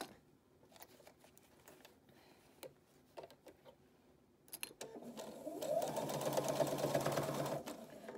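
A sewing machine backstitches along the bill of a one-size scrub or welding cap, starting after a stretch of quiet handling clicks and then running in a steady, loud, close whir for about three seconds.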